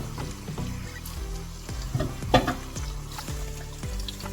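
Turkey dish cooking in a pan being mixed, with soft scraping and stirring strokes over a low bubbling sizzle and faint background music, close and fairly quiet, no talk.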